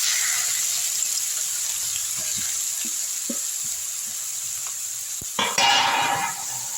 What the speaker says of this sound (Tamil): எண்ணெய் நல்லா காஞ்சிருச்சு இப்போ இந்த பாவக்காவை எடுத்து இதில் போட்டுடலாம்